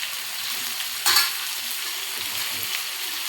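Chayote sautéing in a pan with tomato, onion, chana dal and urad dal makes a steady close sizzle and fry hiss, with one brief louder clatter of stirring near the middle.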